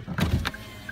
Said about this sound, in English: only the driver's side window is the automatic up and down